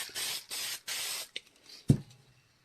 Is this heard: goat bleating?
no